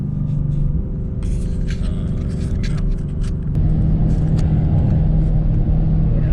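A car with a PFA Motorsports intake driving along, a steady low engine rumble and road noise from inside the cabin, shifting to a slightly louder drone partway through, with faint clicks and rattles.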